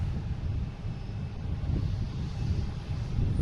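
A Cape Air plane arriving at Boston Logan International Airport from New Bedford makes a steady, broad engine rumble at moderate distance, holding level throughout with wind-like hiss and no talk.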